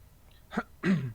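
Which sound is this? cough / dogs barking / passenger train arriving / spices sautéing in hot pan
cough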